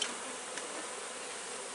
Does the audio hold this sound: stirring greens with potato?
no